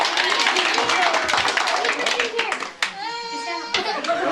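Children and family clap together at a home magic show, a brisk burst of hand claps and chatter that fades out as a voice and a high sung or squealed tone follow.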